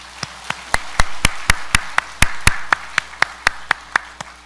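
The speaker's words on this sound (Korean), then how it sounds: "우리 하나님 앞에 감사와 찬양과 영광의 박수를 올려 드리십시다." Steady rhythmic clapping from a church congregation giving thanks in worship, about two claps per second with sharp even strikes, fairly close and clear with no talk over it.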